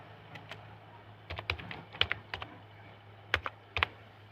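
Someone typing a name on a computer keyboard, soft irregular keystrokes in short bursts, close and quiet over a low steady hum.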